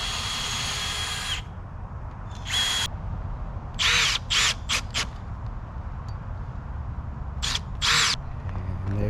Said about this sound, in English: I'm gonna pre-drill here and then pull it tight and screw it in